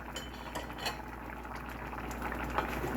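A pot of stewed red beans with coconut milk bubbles on the stove as a lid and utensil clink against it, a steady low simmer with a few soft metallic knocks, close and fairly quiet.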